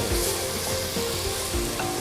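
Garlic ginger paste frying over low heat in a pan, stirred as it cooks, giving a continuous loud sizzle with soft scraping strokes of the spoon repeating every half second or so.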